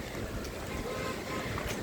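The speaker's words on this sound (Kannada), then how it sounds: "ಬೀಚದ ಸೌಂಡೇ ಚಂದ ಕೇಳೋಕ್ಕೆ." Steady wind and surf roar at a beach in Pondicherry, a continuous broadband wash with gusty mic buffeting and no clear voices.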